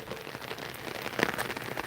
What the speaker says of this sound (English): you can see it raining